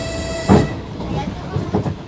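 Passenger train rolling through wartime Ukraine toward the front line, a steady low rumble of wheels with a louder clatter burst and later rhythmic knocks, faint voices murmuring underneath.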